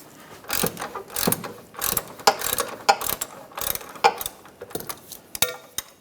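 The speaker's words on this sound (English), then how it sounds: "Using an 18mm wrench on the nut and an 18mm socket." A ratchet with an 18mm socket loosens a control arm nut on a 2009-2013 BMW 328i xDrive, rapid metallic clicking in repeated bursts with pauses between strokes, close and crisp, with no talking.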